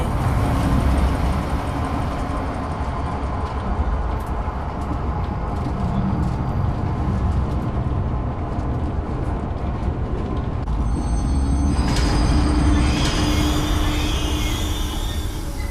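A trolley train in the horror game Zoochosis starts up and rides along toward a giraffe enclosure, a steady loud rumbling roll with rattling, and a brighter mechanical whine rising near the end, with no speech.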